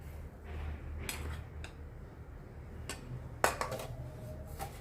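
Spices and sugar get mixed with gram flour in a bowl, producing a few scattered, light clinks and scrapes of a spoon against the bowl over a quiet background, with one slightly louder knock near the end.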